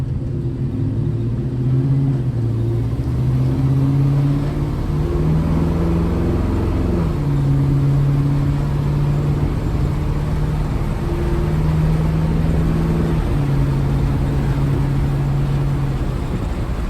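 A 1956 Chevy truck cruising at steady speed, its engine droning low and continuous with a few gentle shifts in pitch, loud and close with road rumble and no talking.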